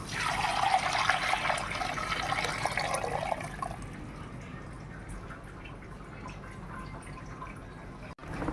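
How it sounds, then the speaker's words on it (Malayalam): Chicken soup poured over vegetables in a pot, a steady liquid splash and trickle that runs loud for about three seconds, then thins to a quieter dribble. "വെജിറ്റബിളിലേക്ക് സൂപ്പ് ഒഴിച്ചു കൊടുക്കാം"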